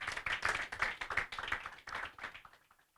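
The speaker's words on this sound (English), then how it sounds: "Please give yourself a round of applause for that." Faint applause from a staff conference audience, scattered hand claps pattering along for a couple of seconds before thinning out and fading away.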